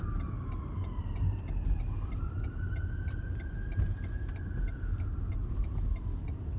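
A lorry rumbles steadily along a road, with low engine noise filling the clip and a faint siren-like tone rising and falling in the distance.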